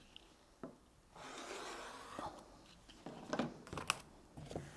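Quilt fabric is cut on a rotating cutting mat with a rotary cutter, giving a soft scraping swipe followed by lighter rustles and taps as the fabric and mat are shifted, close and quiet.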